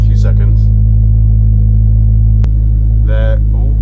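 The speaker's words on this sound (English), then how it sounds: "Let's let the car warm up for a little bit" A Ford Focus ST500 Mk2, tuned to 340 bhp, idles loud and close in a deep, steady drone while warming up after a start, with a sharp click partway through and brief talk over it.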